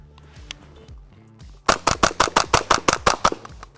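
Rapid string of about a dozen sharp shots from a .22 LR MP5-style rifle firing subsonic standard-velocity rounds, loud and close, evenly spaced in quick succession after a quieter stretch of faint background noise.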